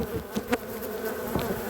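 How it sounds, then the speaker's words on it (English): An agitated swarm of honey bees buzzes loudly and close, a dense steady drone with individual bees zipping past. "Oh, waterfall of bees going over there."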